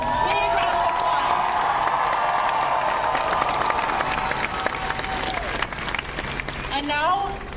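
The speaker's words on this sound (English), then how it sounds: "Give yourself a big round of applause." A large crowd of about 7,500 people at a rally in Denver, Colorado giving a big round of applause, dense loud clapping with cheering and whoops throughout, tapering slightly near the end as a voice comes in.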